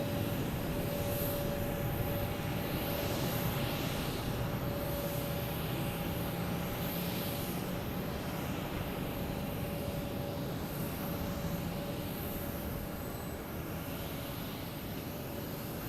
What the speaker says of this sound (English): JetBlue coming in from Tampa in A321.